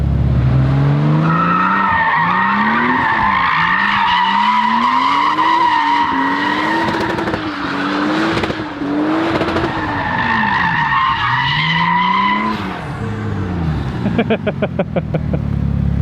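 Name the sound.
car burnout with engine on rev limiter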